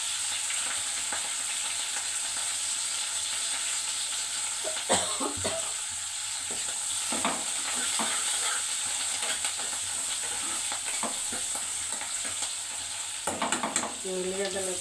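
Dried red chilies frying in a pan of hot oil for tomato pappu, a steady close sizzle and crackle running throughout with occasional stirring scrapes and a brief louder spatter near the end.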